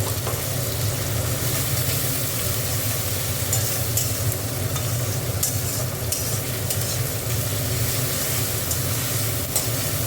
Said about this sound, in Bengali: একটু রসুনটা ভেজে নিচ্ছি।